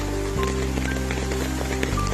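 Steady rain falls outdoors near flooded paddy fields, a dense even hiss that runs without a break under a constant low hum, with no talk.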